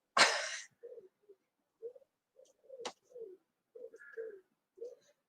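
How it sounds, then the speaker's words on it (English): A pigeon coos close by in a quiet space, several short soft low calls spaced through the moment, with a brief sharp noise near the start and a faint click midway. "you got a pigeon coming behind you"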